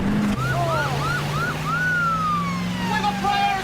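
An ambulance siren wails loudly and close, its rising and falling tones sweeping repeatedly before settling into a long steady tone, over a constant engine drone.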